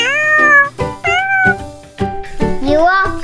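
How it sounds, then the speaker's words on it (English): A cat meows repeatedly, high and close, in a toy play scene with a Paw Patrol ride-on fire truck; the calls rise and fall in quick succession with no talk. "Here's your cat."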